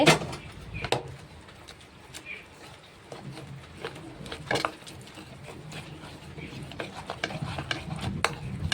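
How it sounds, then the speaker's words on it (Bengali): Chicken fry batter whisked with a little water, a spoon or hand scraping and clicking against the bowl in close, irregular strokes over soft background noise. "অল্প জল ঘন ঘন করে ব্যাটারটাকে গুলতে হবে"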